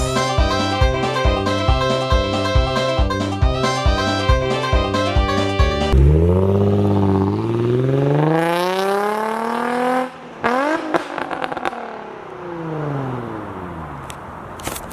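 A Nissan 350Z with a NISMO exhaust revs hard with a rapid rev-limiter stutter, then roars up through a rising pull, and the missed 1-2 shift brings a sudden drop, crackle and renewed revving close by.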